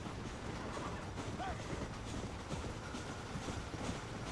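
A train rolls past in the Western video game Red Dead Redemption, a steady broadband rumble with faint rail clatter running the whole time, fairly quiet and continuous.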